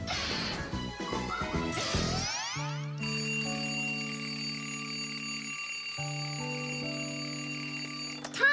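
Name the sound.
alarm clock ringing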